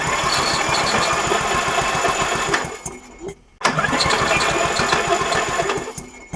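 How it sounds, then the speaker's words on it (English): Briggs & Stratton Yard King engine cranking on its starter, a loud, steady rapid churning rhythm that runs for about two and a half seconds, stops briefly, then resumes and continues to the end, close up. "So let's try the starter."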